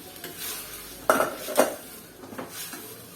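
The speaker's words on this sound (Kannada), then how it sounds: "ಸ್ವಲ್ಪ ಟೊಮೆಟೊ ಫ್ರೈ ಆದ ತಕ್ಷಣ ನಾನು ಬೇಯಿಸಿರುವಂತ ಕಾಳನ್ನು ಹಾಕೊಳ್ತಾ ಇದ್ದೀನಿ." Tomato frying in a pan as cooked cowpeas go in: a soft sizzle beneath two sharp metallic clanks of a utensil against the pan, then lighter scraping stirs, with no speech.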